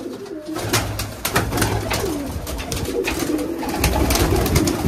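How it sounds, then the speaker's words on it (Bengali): Giribaj pigeons coo inside a closed room, several low throaty coos overlapping with wing flutters and scuffling clicks, close and fairly loud throughout. "অনেক সুন্দর কবুতর"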